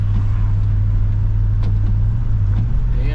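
A 1963 Buick Riviera running on a test drive, its engine a loud, steady low rumble from inside the car, with faint road noise and no talk.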